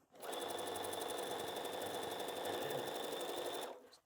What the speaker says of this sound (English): I'll go get this sewn.